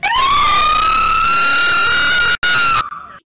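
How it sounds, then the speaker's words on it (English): A loud, close ambulance siren wails with a rising and holding tone, briefly cutting out once before stopping abruptly. "if I turn on the lights and sirens, we desperately need to get to the hospital."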